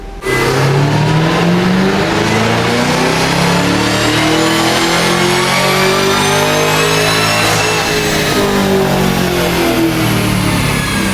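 Supercharged car engine fitted with a carbon fiber supercharger lid, run in loud exhaust mode during a dyno pull: a loud, sustained roar with rising supercharger whine and climbing revs throughout, close and unbroken.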